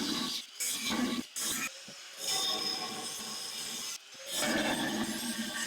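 An angle grinder powered by a small portable solar power station cuts through a piece of metal in harsh, grinding bursts that stop and restart, close by, with a brief word spoken.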